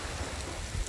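Heavy rain pouring down on a beach, a dense, steady broadband hiss of falling water with no pauses, close and loud throughout the short stretch.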